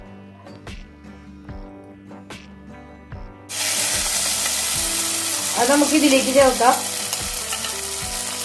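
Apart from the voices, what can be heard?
fenugreek, dried chilli and curry leaves sizzling in mustard tempering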